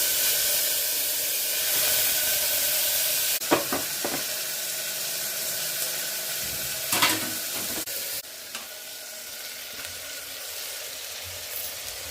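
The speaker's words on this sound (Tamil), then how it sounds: "வெங்காயம், தக்காளி, கருவேப்பிலை, கொத்தமல்லி, பட்டை, லவங்கம், ஏலக்காய், சீரகம் எல்லாத்தையும் போட்டு நல்லா வதக்குங்க." Onion, tomato, curry leaves, coriander, cinnamon, cloves, cardamom, cumin and turmeric sautéing in hot oil for rice-and-lentil rice: a steady close sizzle with a few sharp stirring scrapes and clatters of a spoon against the pan.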